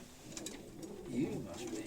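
Pigeons coo softly in low, murmuring calls over faint background sounds, with a few higher chirps mixed in, fairly quiet and distant.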